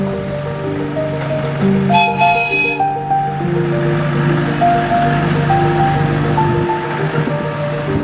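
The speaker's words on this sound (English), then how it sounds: "Well, I can only imagine that was the same train that was leaving." A land train running along a coastal footpath at Hengistbury Head passes nearby, giving a steady loud engine hum and rumble with a brief bright whistle-like squeal, all under gusting wind.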